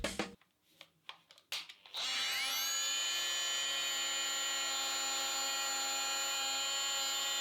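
Two oscillating multitools, a German-made Fein Multimaster and a Mexican-made DeWalt Atomic DCS354, whirring at a loud, steady high pitch for several seconds after a few short handling knocks.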